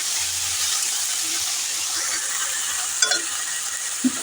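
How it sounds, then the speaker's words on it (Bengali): Potatoes stirred in a pan for a chickpea and potato curry, a steady soft sizzle with faint scraping and a couple of brief knocks near the end, no voices. "এবার আলুটা একটু ভালো করে নাড়াচাড়া করে একটু চাপা দেবো"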